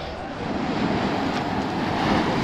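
Surf rolling and breaking on the shore of La Gomera during a coastal hike, a steady broad wash of waves mixed with wind noise, fairly loud and continuous with no talk.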